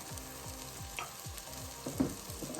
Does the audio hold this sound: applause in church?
no